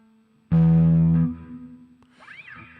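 Electric guitar played through a Harley Benton DNAfx GIT multi-effects unit set to a JCM 800 amp model: one loud distorted chord rings out and is cut short, followed by a quieter bent lead note sliding upward.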